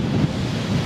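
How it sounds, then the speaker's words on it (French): Strong wind buffets the microphone outdoors at Dakar, a loud, continuous low rumble with gusty swells and no speech. "Il y a beaucoup de vent, je ne sais même pas si vous m'entendiez"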